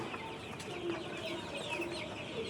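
A flock of farm chickens, about a thousand healthy birds in a shed, keeps up soft, steady clucking that sounds faint and somewhat distant, with no talking over it.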